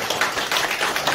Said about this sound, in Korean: 힘찬 격려 박수 한번 부탁드립니다